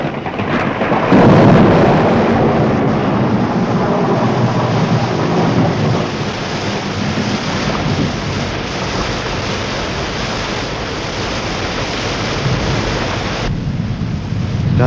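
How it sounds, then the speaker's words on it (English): Heavy rain beats down steadily in a thunderstorm, with a loud rumble of thunder near the start and a constant dense roar throughout, no voices over it. "Listen, Joe, it's started to rain."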